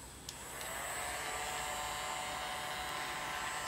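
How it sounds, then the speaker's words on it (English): A hair dryer blows a steady, even whoosh close by while drying a reborn baby doll's hair, switching on after a brief click and running on alone. "So just use your hair dryer"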